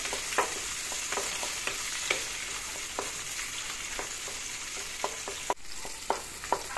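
Onions soften in hot oil in a pan for a chicken curry, a constant hiss of frying with regular sharp clinks and scrapes of stirring.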